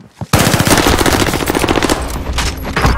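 Call of Duty operation combat with sustained automatic machine-gun fire: loud rapid rattling shots that run almost without pause for nearly three seconds after a brief quiet opening.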